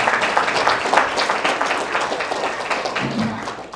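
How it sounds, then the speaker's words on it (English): Audience applause at a GED graduation ceremony, a dense, steady round of clapping for nearly four seconds that tapers slightly at the end, with a faint voice near the close. "I think you need to give them a round of applause for them helping you."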